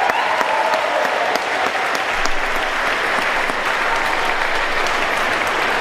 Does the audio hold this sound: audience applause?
yes